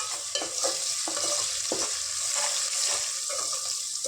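Onions being stirred as they fry on a low flame for a homemade tomato chicken curry, a steady close sizzle broken by spoon scrapes and clatters against the pan, with no voices.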